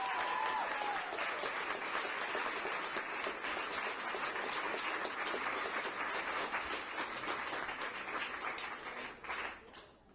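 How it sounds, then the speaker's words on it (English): A crowd applauds steadily at a press conference, a dense wash of clapping that holds strong before thinning out near the end. "a round of applause, please"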